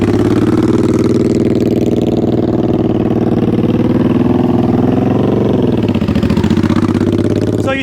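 A motorcycle engine runs continuously during slow-speed riding practice, a loud, steady mid-range drone with throttle swells, close and alone without talk.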